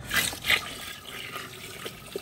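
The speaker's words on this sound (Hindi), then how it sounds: "पानी, लंबा पानी, हम 2 से 3 जग जाएंगे इसके अंदर भर के" Water is poured from a jug into a large cooking pot of beef nihari, giving a short splashing, gurgling rush that fades into softer trickles and drips.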